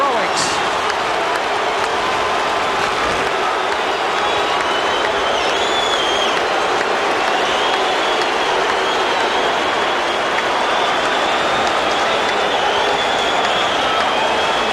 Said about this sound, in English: listen to this crowd on Cooper's heroics